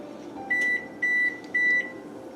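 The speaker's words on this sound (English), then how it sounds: "That beeping was just my oven telling me that, hey, it's done and preheated" Three steady electronic beeps from an oven signalling it has finished preheating, each about a quarter second long and evenly spaced, over a faint background hum.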